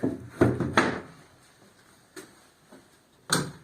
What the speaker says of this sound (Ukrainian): Закриваємо вулик